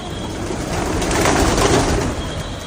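Pigeons coo softly amid a broad, rushing background noise that swells in the middle and then eases.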